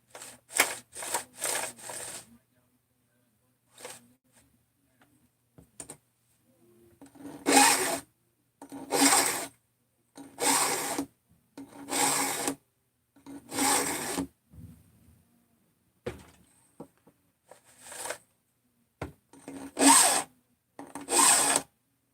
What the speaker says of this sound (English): just grind out the dividers in the caps